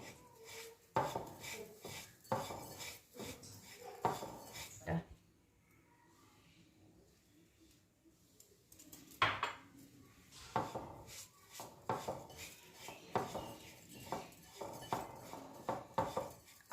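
A spoon clinks and scrapes around a bowl while chili powder and yellow food colouring are mixed in. The quick metallic taps come in bursts, pause for a few seconds, then resume, all close-up.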